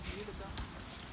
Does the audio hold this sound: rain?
yes